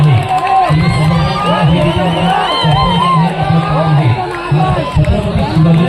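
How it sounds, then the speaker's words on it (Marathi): A large crowd cheers and whoops for the winners of a fort-building competition, with loud, continuous shouting and excited chatter that sustains throughout with rising and falling surges. "जोरदार टाळ्या झाल्या पाहिजेत आपल्या शौर्यासाठी"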